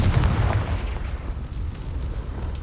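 Confringo explosion spell in the video game Hogwarts Legacy, a loud, dense, rumbling blast that fills the whole short stretch with no voices.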